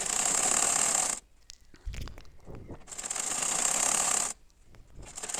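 A sewing machine stitches the sleeve of a three-month-old baby's full-sleeve fatua in two long loud bursts of steady running, separated by a pause with brief handling knocks and a faint low thump.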